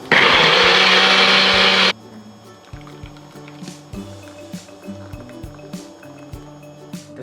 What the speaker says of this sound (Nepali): आधा कप पानी हालेर ब्लेन्ड गर्नु होला।